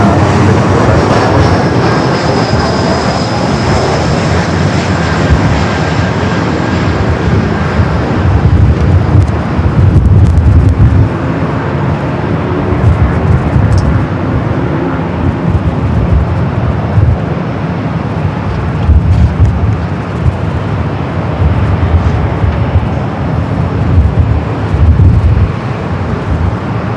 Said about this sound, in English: Condor in the Green Island livery, heading back to Frankfurt in this A330 Neo